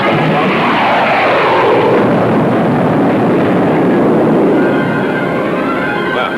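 A weapon fires and explodes in a 1954 science-fiction film, heard as a loud sustained roaring rumble with a rising whine, dense and continuous throughout with no talk.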